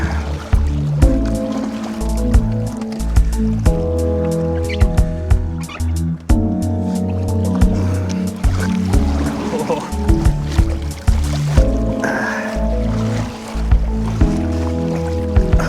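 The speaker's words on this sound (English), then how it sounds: "There's some pretty sketchy waves." Choppy lake waves slapping and sloshing against a fishing kayak in wind, with loud, irregular splashes and knocks against the hull throughout and a steady low rumble underneath.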